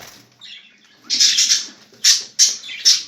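Large pet birds, including a jumbo male and young birds, giving several loud close high chirping calls in short bursts, with faint flapping and quieter sounds between them.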